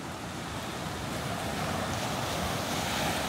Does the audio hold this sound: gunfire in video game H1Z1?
no